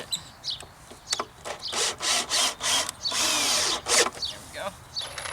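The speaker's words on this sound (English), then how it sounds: "I don't think my drill bit reaches all the way in there." A power drill whirs in several short bursts, biting into wood with a grinding whine, then one longer sustained run before stopping; close and fairly loud.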